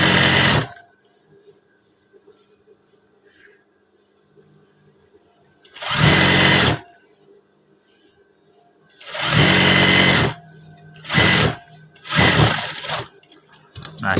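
An overlock sewing machine serges a seam through two layers of thin batik fabric, running in several separate bursts of fast whirring with quiet pauses between them.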